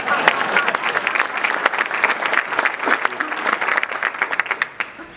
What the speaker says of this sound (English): I'm going to applaud myself.